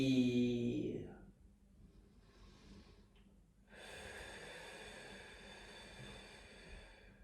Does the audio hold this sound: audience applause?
no